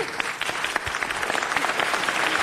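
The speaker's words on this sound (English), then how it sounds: "please give a warm round of applause to Paul Krikorian." A warm round of audience applause rises in a city council chamber, many hands clapping at close range in a brief, fairly even burst that builds slightly toward the end.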